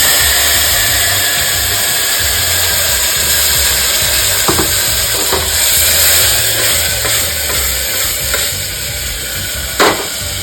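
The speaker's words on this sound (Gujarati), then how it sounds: "રાઈ જીરું એની અંદર નાખી હિંગ અને રીંગણા" Mustard seeds, cumin and asafoetida crackle and sizzle in hot oil with aubergines and potatoes, a loud continuous frying hiss with a few sharp pops and stirring scrapes, and no talk.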